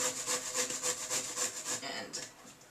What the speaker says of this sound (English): you're going to take your courgette and you're going to grate it